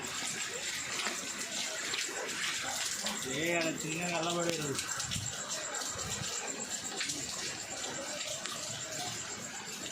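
Floodwater runs into a house after heavy rain, a faint, continuous trickling and splashing flow heard indoors, with a person briefly speaking partway through.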